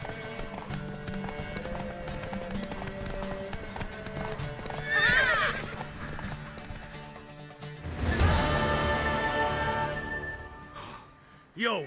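Horse hooves clip-clop steadily beside a horse that neighs loudly twice in The Witcher 3: Wild Hunt, with game music and effects layered underneath and a sharp crash near the end.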